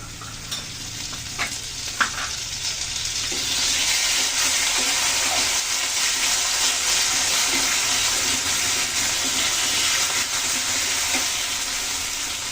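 Cumin paste and ginger paste sizzle loudly in hot oil with chilies, the frying swelling after a few early clicks and then holding steady as a continuous hiss with occasional stirring scrapes.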